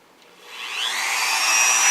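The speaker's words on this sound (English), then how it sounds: "So let's get our Dremel and get sanding." A Dremel rotary tool sands a skateboard deck made from a clipboard, its high whirring grind building from quiet to a steady, close, continuous buzz.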